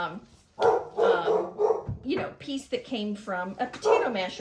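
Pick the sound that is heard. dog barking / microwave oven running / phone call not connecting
dog barking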